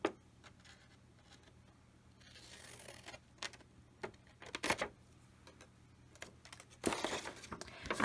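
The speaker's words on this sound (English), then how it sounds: "This time I'm just going to use my scissors." Scissors cutting a slant into paper for a pocket folder insert: a few sharp, quiet snips and crinkles scattered over soft handling noise, close and alone.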